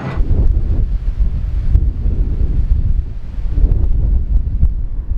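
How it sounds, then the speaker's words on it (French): Strong, gusting desert wind in Las Vegas roars and buffets the microphone with a constant low rumble that swells and eases throughout. "Il y a plein de vent et ça rapporte du sable du désert"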